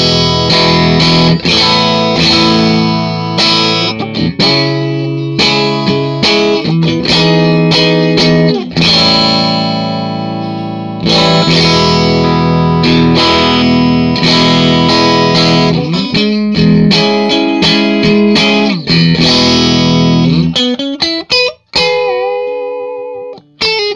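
Parts Telecaster fitted with Seymour Duncan Antiquity pickups, all three pickups on, played through a cranked Matchless amp: loud, continuous overdriven chords and riffs with sustained ringing notes, ending in a brief bend and decay.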